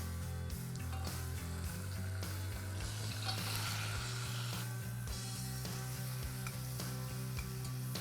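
Tomatoes sauté with garlic and ginger in a hot pan, giving a continuous bright sizzle with a few stirring scrapes. A low steady hum runs underneath, and no one speaks.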